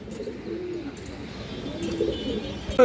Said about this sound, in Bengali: এইখানে 3 পিস বাচ্চা কবুতর আছে